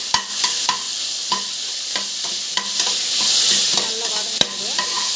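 Beans, green chillies and other vegetables with garlic paste sauté in a pan under repeated stirring, with steady frying hiss and regular spatula scrapes and taps against the pan, close and fairly loud, with no talk.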